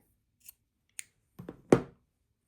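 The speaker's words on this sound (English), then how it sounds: "grab your scissors, you're going to cut your yarn." Two faint snips, then a louder double cut of scissors through yarn close up, crisp and brief against near silence.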